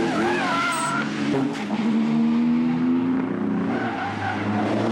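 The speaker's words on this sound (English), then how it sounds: "Number 63, that's Richard Finney in a Porsche 944" Porsche race cars, including a Porsche 944, roar past on a circuit during archive British motor racing, with a loud engine drone, a rising whine and tire squeal as the cars sweep through close by.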